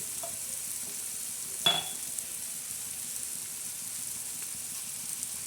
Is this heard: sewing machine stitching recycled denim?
no